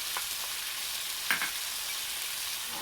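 Vegetables for vegan fajitas sizzle and hiss steadily in a hot pan while seasoning goes in. The frying is constant and close, with a few soft stirring scrapes and no talking.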